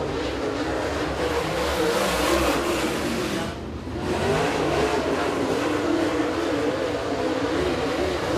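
Super late model race cars at Eriez Speedway qualifying roar continuously under power, a loud sustained engine drone that briefly dips mid-way before surging again.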